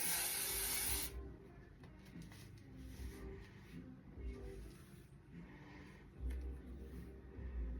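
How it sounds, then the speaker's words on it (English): Hairspray hisses onto long hair extensions in a loud, close burst of about a second, followed by quieter handling and rustling of the hair, with soft talking in the background. "So I'm going to throw a little bit more hairspray on it"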